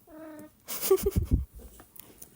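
A house cat meows and yowls close to the microphone, a couple of drawn-out vocal cries over about a second, heard alone without talk.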